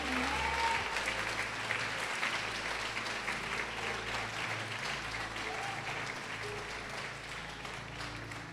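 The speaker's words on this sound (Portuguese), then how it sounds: "Pode aplaudir o Senhor e glorificá-lo." Church congregation applauding together during a sermon, steady continuous clapping held for several seconds at a moderate distance, with a low hum underneath.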